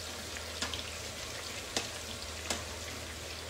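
Aubergines frying in plentiful oil in a pan, a steady dense sizzle with a few soft clicks from stirring, continuous and fairly close, no voices.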